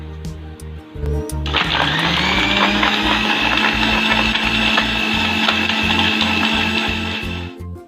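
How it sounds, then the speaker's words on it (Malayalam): An electric mixer grinder blends ginger lemon juice with ice cubes and water, a loud steady whirring drone with rattling ice that starts about a second in and runs unbroken to the end. "ഇനി നമുക്ക് 1 മിനിറ്റ് ഇതൊന്ന് അടിച്ചെടുക്കാം."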